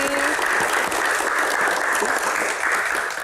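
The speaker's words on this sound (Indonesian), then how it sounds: "tepuk tangan untuk Mbak Sundari" An audience applauds a keroncong singer on stage, with a short burst of dense, loud, even clapping filling the whole moment.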